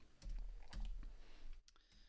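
Keys clatter on a computer keyboard while an Excel logical formula is entered, with a few quick clustered keystrokes in a close room over a steady low hum.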